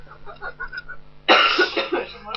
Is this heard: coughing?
yes